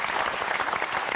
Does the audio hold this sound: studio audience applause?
yes